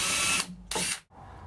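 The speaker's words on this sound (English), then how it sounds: "This is my 9/32 drill bit. I'm going to do 2 little pilot holes starting at about 5 inches" Power drill boring two short pilot holes with a 9/32 drill bit during hog wire deck rail installation; two close, loud whirring bursts separated by a brief pause, with no talk.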